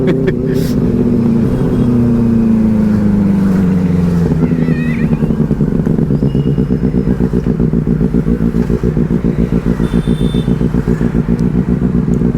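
A Benelli 600i motorcycle engine drones steadily while riding, with a low, pulsing rumble and rhythmic clattering that grows more pronounced partway through.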